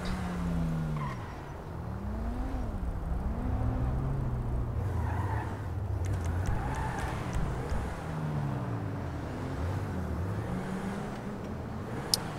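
Car in a roleplay video game driven wildly, engine revving up and down in repeated swooping surges with occasional tyre skids, fairly close and continuous for several seconds.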